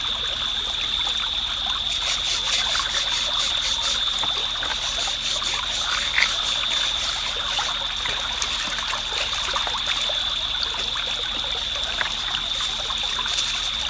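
Water runs continuously while crawfish are washed, a steady splashing trickle heard close up for the whole span, with a high constant whine behind it.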